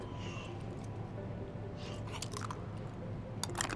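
Crunchy chewing in Final Fantasy VII Remake: a character bites and grinds through hard beans, steady crisp mouth noises close up, repeating for several seconds.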